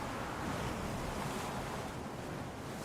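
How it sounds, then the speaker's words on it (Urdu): Stormy ocean waves crash against a ship at sea, a steady loud roar of surf and rushing water with wind noise running through without a break. "لہریں پانی کی اونچی دیواروں کی مانند ہو گئیں جو جہاز سے ٹکرا رہی تھیں"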